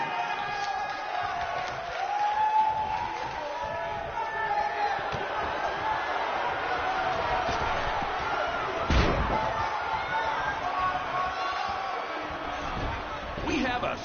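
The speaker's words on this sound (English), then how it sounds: "Sold-out, record-setting crowd here for BCW tonight." Sold-out, record-setting arena crowd roaring and cheering at a BCW event in a wrestling career-mode video game, a steady dense wash of voices running throughout with a sharp slam-like impact near the middle and another near the end.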